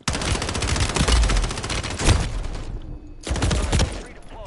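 Rapid video game gunfire rattles in a dense, loud burst for over two seconds, breaks off briefly into near silence, then resumes in a shorter volley.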